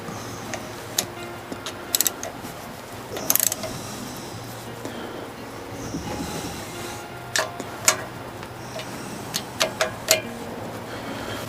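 A ratchet snugs down bolts on an engine long block during a rebuild, giving scattered sharp clicks and short ratcheting bursts over a low, steady background hum, close by and without talk.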